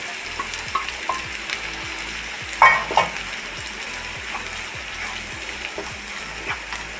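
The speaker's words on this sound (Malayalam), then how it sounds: "അപ്പോൾ ഒന്ന് ഫ്രൈ ആയോട്ടെ" Grated coconut fries in a pan with a steady, close sizzle, and a few louder stirring scrapes break in midway, with no speech over it.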